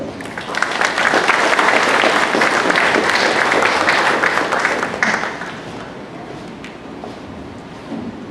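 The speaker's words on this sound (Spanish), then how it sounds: "Los aplausos para él." An audience at a lecture event applauds a speaker being introduced, a loud, dense burst of clapping that holds for about five seconds, then thins into scattered claps and fades.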